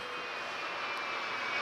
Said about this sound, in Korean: 드론이다, 드론.